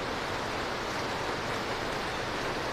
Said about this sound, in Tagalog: Maririnig niyo ang kumalakskas ng ulan.